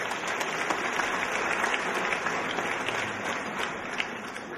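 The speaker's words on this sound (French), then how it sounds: "On peut l'applaudir." Steady, dense audience applause at a Miss Orléanais 2014 beauty pageant election, loud and continuous throughout with no voices over it.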